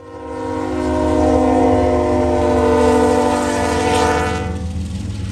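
A hot intermodal freight train from Bedford Park, Illinois, to Port Newark, New Jersey, sounds a loud sustained multi-tone air horn as it approaches near Deshler, the blast swelling and fading over a low rumble of passing railcars.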